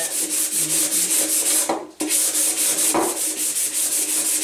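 Close, continuous rasping of a Dollar Tree sanding block scrubbing a painted metal container in quick repeated strokes, with one short break midway.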